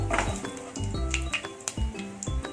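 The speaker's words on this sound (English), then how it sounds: "So let the spices splatter and give its flavor." Whole spices, black pepper, cloves and star anise, splutter and crackle in hot oil in a pan, with sharp pops and clinks of utensils against the pan close up, no talking.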